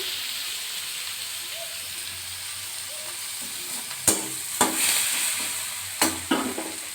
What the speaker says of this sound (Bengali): পেঁয়াজ কুচিটা ভালো করে ভাজা হয়ে যাক